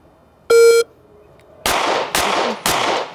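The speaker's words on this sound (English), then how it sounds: "It tells me when to go, right? Yeah, it'll beep, so stand by." A Mantis X10 par timer gives one sharp electronic beep, followed by three loud, distinct gunshots spaced about half a second apart.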